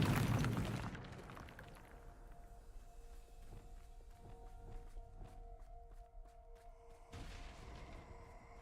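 In a Hogwarts video game, a Bombarda spell goes off as a loud explosive blast at the start, decaying into rumbling debris and scattered footstep-like thumps, then a softer burst near the end.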